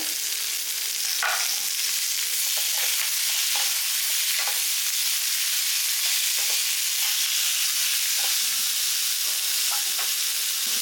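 Curry leaves, mint, tomato and cashews are stir-fried in a pan for a meal maker kothu curry, producing a dense, unbroken hissing sizzle with occasional soft spoon scrapes.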